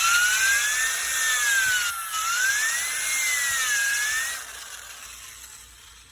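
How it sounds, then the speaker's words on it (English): A cylinder hone with light oil turns gently inside the bore of an old, corroded Harley motorcycle master cylinder, giving a steady high whine that wavers slowly in pitch for about four seconds, then fades to a quieter hiss. "I'm going to take my light oil, put a little on my cylinder hone, and just very gently"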